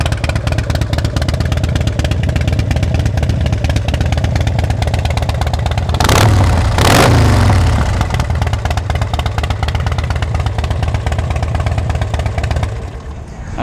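A Harley-Davidson Street Glide motorcycle engine idles loud and close with an uneven, loping rumble, a short rev swelling in the middle before it settles back and then cuts off at the end.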